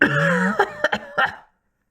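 A man coughs in a handful of rough, close bursts, the last ones short and fading into silence, with no talking.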